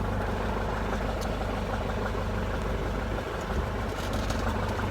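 A New Holland ProRotor 3114 rotary rake runs at low RPM, giving a steady, loud, droning engine rumble with no pauses and no voices.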